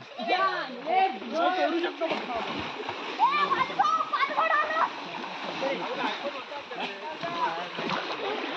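People splash and play in water outdoors, with scattered splashes under lively overlapping voices and shouting throughout.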